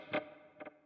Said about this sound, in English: It is a dark delay.